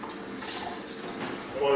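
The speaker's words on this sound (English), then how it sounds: "The water's going a little bit too strong" Water pouring into a Big Berkey gravity water filter, a steady hissing splash of running water flowing a little too strongly, close by with no pauses.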